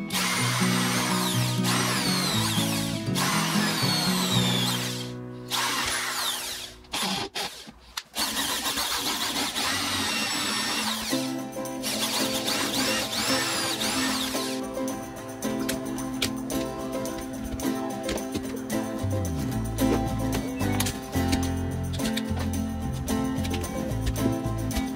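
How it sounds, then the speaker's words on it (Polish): A drill press whines steadily as it bores through a wooden tree stump, its motor pitch shifting and grinding under load throughout, with no talking. "Teraz możemy przewiercić pieniek na wylot"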